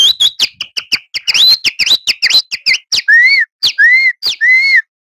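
A man whistles an imitation of the Himalayan monal's call: a rapid run of sharp, shrill chirping notes, then a few longer rising-and-falling whistled calls, loud and close with no other sound.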